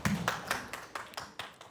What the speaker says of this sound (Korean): 이주환 대표님을 큰 박수로 환영해 주시기 바랍니다